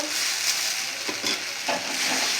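Spiced gravy for chickpea dhoka fries in a pan, a steady bright sizzle with a few soft stirring scrapes and no voices.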